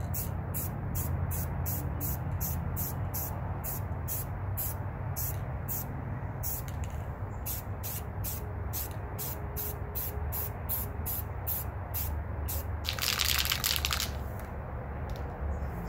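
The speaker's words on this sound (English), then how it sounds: "since I'm doing two areas, I'm going to spray these both right now" Repeated short bursts of Tremclad Rust Reformer aerosol spray, a steady rhythmic series of hisses, followed by one longer sustained spray near the end.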